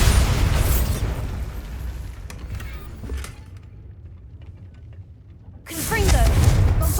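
Bombarda spell blasts in Hogwarts Legacy, a loud booming explosion that fills the opening seconds, fades into a quieter stretch, then a second heavy burst near the end, with a voice speaking over the action.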